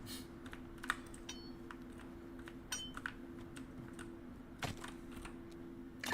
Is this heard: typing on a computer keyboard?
yes